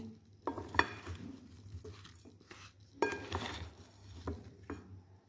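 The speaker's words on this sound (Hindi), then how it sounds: "हम इसको अच्छे से मिक्स कर लेंगे" Lemon pickle being stirred with crushed black pepper and ajwain: soft scraping and knocks of a spoon against a pot, in irregular strokes with quiet pauses between them.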